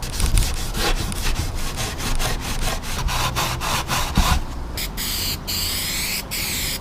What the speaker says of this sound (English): we're going to clean this up a little bit here just with a little scrubby pad